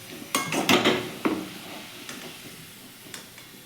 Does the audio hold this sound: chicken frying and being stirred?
yes